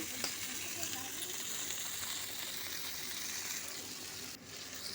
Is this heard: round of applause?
no